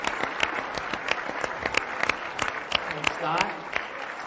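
An audience at a LIV Golf press event applauds, with sparse, distinct claps ringing out irregularly at close range while someone speaks briefly over them.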